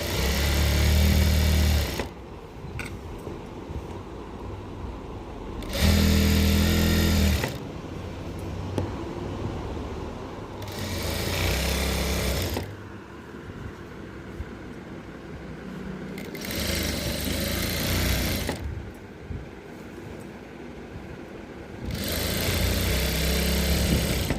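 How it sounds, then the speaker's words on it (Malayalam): A sewing machine stitches fabric for a pair of pants in loud bursts of rapid mechanical whirring, each lasting a second or two. Quieter stretches of handling and faint rustling separate the bursts. "ഇതിനെ ഒന്ന് ചുറ്റിനൊന്ന് സ്റ്റിച്ച് ചെയ്ത് കൊടുക്കണം."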